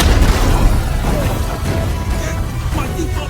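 Rocket-propelled grenade explosion from a jungle combat movie scene, a heavy booming blast with rumbling debris that fills the short stretch, loud and close, with a dense low-end roar fading slightly toward the end.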